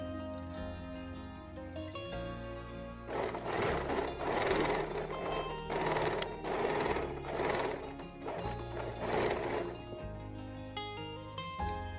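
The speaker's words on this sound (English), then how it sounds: "Step 3 is to sew the sides together." Stitching the side seams of a puff-sleeve crop top, a sewing machine runs in several close, rattling bursts separated by short pauses, with music playing underneath throughout.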